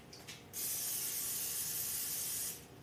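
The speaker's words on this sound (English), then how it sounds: "Butter spray." A butter spray can hisses into a pan in one steady blast of about two seconds, loud and close, with no talk over it.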